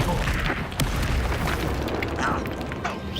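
A Confringo fire spell exploding in the video game Hogwarts Legacy, heard as a loud, sustained rumbling blast with crackling bursts that fills the whole moment without letting up.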